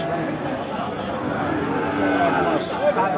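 A red Sahiwal-breed heifer, eight months old, moos close by at a cattle market, a low drawn-out call mixed with people talking around it.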